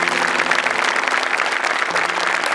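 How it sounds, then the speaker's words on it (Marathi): An audience at a stage tribute event breaks into loud, sustained applause, many hands clapping steadily throughout. "जोरदार टाळ्या"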